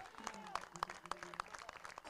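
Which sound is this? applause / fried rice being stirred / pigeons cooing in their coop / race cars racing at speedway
applause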